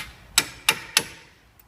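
Three sharp, evenly spaced hammer taps ring out on the T27 bolts of a Citroen C2 1.1 front brake, close and clear, with nothing else around them.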